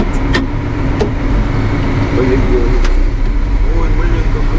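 An RSM 2375 tractor pulls away with an abrupt clutch engagement on its first run after winter. The engine drones loudly and steadily up close while people talk over it.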